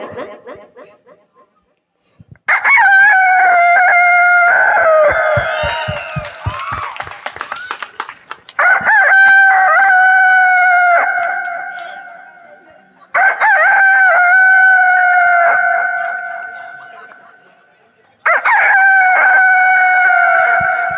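A man mimics a rooster crowing in a Kannada animal and bird mimicry act, giving four loud, drawn-out cock-a-doodle-doo calls in a row, each separated by a brief pause, with a short burst of clucking and chatter near the start.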